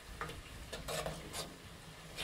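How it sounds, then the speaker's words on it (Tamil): A utensil scrapes and stirs through a herbal hair growth oil mixture in a pan in several short strokes over a low sizzle of hot oil, close and fairly quiet. "நல்லா கலக்கி விடுங்க"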